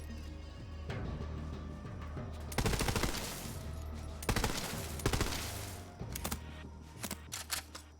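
Bursts of automatic gunfire from a player's weapon in Borderlands 3 aimed at the lock on a weapons shed, several rapid volleys separated by pauses, ending in a few quick single shots, with no talking.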